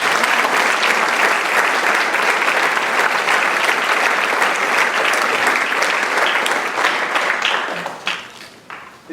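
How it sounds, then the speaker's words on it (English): A school spring concert audience gives two honor band students a loud round of applause, dense steady clapping that carries on for several seconds before thinning out and fading near the end. "Nice round of applause for these two."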